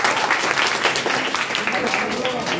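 Classroom of ninth-grade students breaks into steady, dense group applause, loud and close, continuing throughout with no pause and little else audible.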